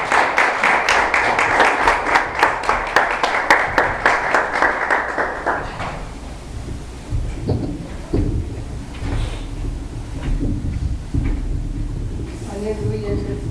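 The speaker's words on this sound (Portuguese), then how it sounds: "Pode aplaudir ao Senhor em nome de Jesus." A congregation at a church service claps together, strong and steady for about six seconds, then the clapping breaks off and scattered voices and rustling follow.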